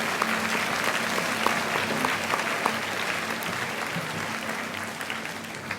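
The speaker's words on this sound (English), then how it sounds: "Please, one more round of applause." Sustained audience applause fills a school awards assembly hall, dense steady clapping from a large crowd holding at an even level throughout, with no talk on top.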